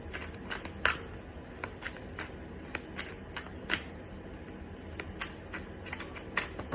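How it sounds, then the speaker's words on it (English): A deck of cards shuffled by hand, giving repeated quiet riffles and snaps in an uneven rhythm, close and fairly soft, with no voices. "Shuffle 2 times,"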